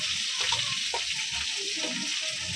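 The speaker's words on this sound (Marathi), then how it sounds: "पहिला तेल टाकून त्याच्यात कांद्याची जी पेस्ट केलेली ते टाकलं सगळं" Onion paste dropped into hot oil in a home kitchen, frying with a continuous hiss and sizzle, plus intermittent scraping and stirring noises close by.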